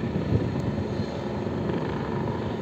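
Helicopter flying over a wildfire-damaged stretch of the Sierra de Gata in Spain, a steady, continuous rotor and engine drone at moderate distance, fairly even in loudness throughout with no voices.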